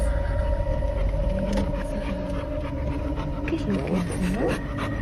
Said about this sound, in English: Hey, dog, move!